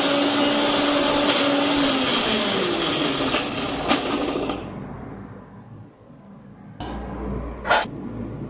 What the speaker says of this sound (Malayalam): ഞാൻ ജാറിൽ മഞ്ഞൾപ്പൊടി, കുരുമുളക്, പെരുംജീരകപ്പൊടി, ഉപ്പ്, കറിവേപ്പില, വെളുത്തുള്ളി എന്നിവ ചേർത്ത് നന്നായിട്ട് അരയ്ക്കാൻ പോവുകയാണ്